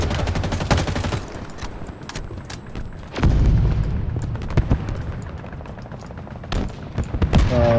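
Rapid bursts of gunfire in the Halo video game, loud and close, with automatic fire and sharp single shots breaking through a dense battle din, plus booming blasts.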